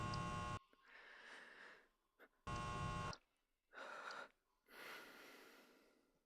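A creature in a Roblox evil hospital obby game breathes in loud, rasping gasps and wheezes, about five breaths with short silent gaps between them, close and harsh.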